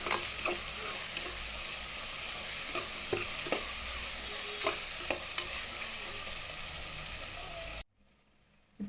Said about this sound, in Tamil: இதோட கொஞ்சம் புதினா இலை, கொஞ்சம் மல்லி சேர்த்து நல்லா வதக்கி விட்டுக்கிறோம்.